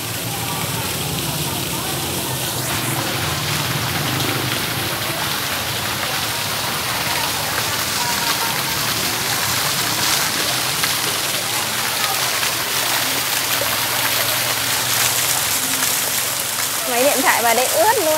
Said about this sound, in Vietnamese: Trời ơi, mưa rơi, tuyết rơi.